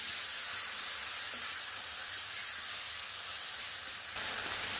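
Ginger, green chili and dried chili paste sizzling in hot oil with onions, giving a loud, continuous hiss that stays even from start to finish without any talking.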